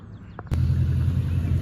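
A car's exhaust starts up after a brief click and chirp, settling into a steady low rumble at idle, close and fairly loud with no talk.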